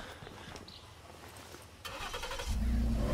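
A car engine starts in State of Decay 2. A door clunk comes first, then the cranking engine catches and settles into a loud, close idle rumble.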